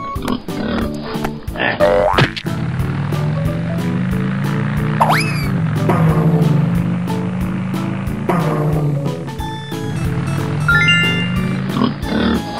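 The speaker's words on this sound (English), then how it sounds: "Pig." A pig oinking and grunting over upbeat children's music, with repeated low grunts spread through the clip alongside rhythmic beats and a short whistle-like slide.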